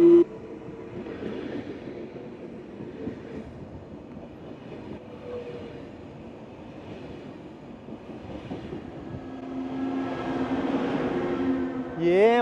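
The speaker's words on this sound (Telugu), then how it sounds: "సో మనల్ని వదిలిపెట్టేసి ఈ ట్రైన్ నీస్ వెళ్ళిపోతుంది." A high-speed train heads toward Nice in southern France, a steady rumble and rolling wheel noise nearby that rises toward the end with a whining squeal, and a voice speaks briefly.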